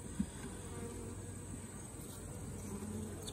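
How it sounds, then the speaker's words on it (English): Honeybees buzz softly in a nuc colony as they work across five frames, a steady low hum of insect wings with faint background hiss and no talk. "we see the bees are working all 5 frames"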